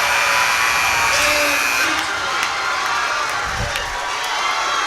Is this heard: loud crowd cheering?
yes